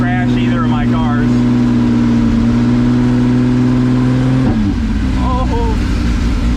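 A Camaro is driven through heavy rain and standing water, its engine holding a steady hum over a constant wash of spray and rain. The engine note drops partway through, and a voice speaks briefly over it.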